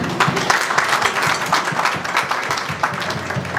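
A church congregation claps together during a weekly service, a steady patter of many hands carrying on for several seconds with faint voices beneath.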